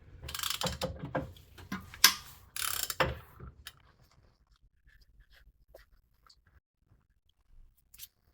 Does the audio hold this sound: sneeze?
no